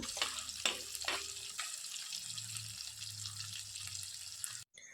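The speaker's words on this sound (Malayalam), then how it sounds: "ചെമ്മീൻ കുറേശ്ശെ എണ്ണയിലേക്ക് ഇട്ട് കൊടുത്തു കഴിഞ്ഞ് ഒരു രണ്ട് മിനിറ്റുകൾക്ക് ശേഷം ഇടയ്ക്കിടെ ഇളക്കിയിട്ട് നമുക്ക് ഈ ചെമ്മീൻ നല്ലതുപോലെ ഒന്ന് വേവിച്ചെടുക്കാം" Marinated prawns frying in hot oil, a low continuous sizzle with a couple of sharp utensil knocks early on and occasional stirring, fairly quiet and alone until an abrupt cut at the end.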